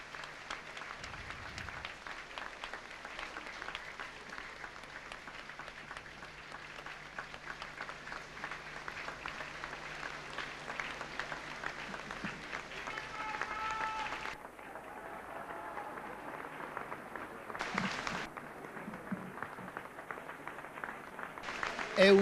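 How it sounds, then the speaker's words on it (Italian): Sustained crowd applause and cheering as Pope John Paul II enters during his 1992 visit to Friuli-Venezia Giulia, a steady dense roar of clapping lasting throughout, with a commentator speaking over it. "Ed ecco l'applauso, ecco il Santo Padre che fa il suo ingresso."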